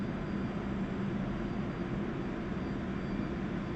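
A Su-25T Frogfoot jet in the DCS World video game with its engines throttled to idle, giving a steady, low, subdued whine and rumble, even and continuous with no speech.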